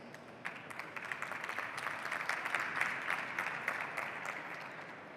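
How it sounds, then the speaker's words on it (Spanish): Applause from an audience at a talk on protecting intangible assets, moderately distant clapping that swells a little in the middle and carries on steadily to the end. "os pido un aplauso para ella"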